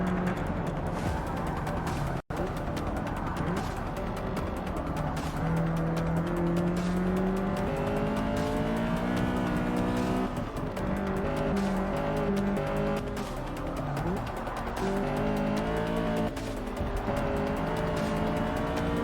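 Race car in the Forza 6 video game lapping a city circuit in Prague: a loud, steady engine drone rising and falling through gear changes, with tire squeal mixed in, continuous throughout with no talking.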